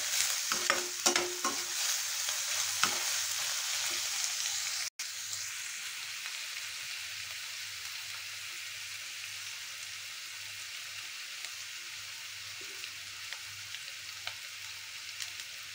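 Onions frying and being stirred in a pan for saag, with a steady close sizzle throughout and a few scraping stirs near the start, no talking.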